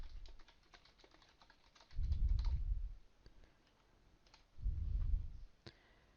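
Quick, light clicks of a computer keyboard as a website address is typed, close and quiet, with two short heavier thumps mixed among the keystrokes.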